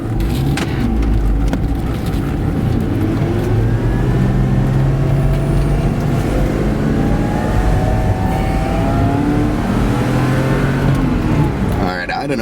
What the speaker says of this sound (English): the sounds coming from those pipes and the smooth pull of that torque curve